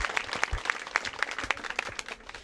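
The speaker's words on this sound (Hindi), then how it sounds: "एक बार जोरदार ताली से अभिनंदन कीजिए," Lively applause at a farewell ceremony for a nurse, a crowd clapping steadily with sharp claps piling over one another throughout, fairly close and with no talk over it.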